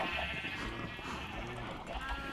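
Sheep in the Minecraft video game bleat several times in a row, repeated wavering baas over a dense background of game sounds.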